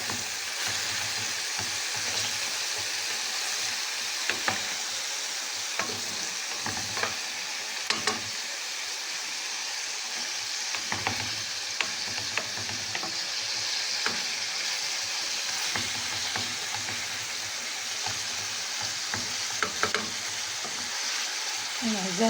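Meat for an onion beef tagine sizzles steadily in hot fat while it is stirred until golden, with scraping utensil clicks recurring irregularly over a continuous bright frying hiss.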